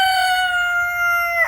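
A rooster crows once in a single sustained, steady call, close and loud, with faint background noise beneath it.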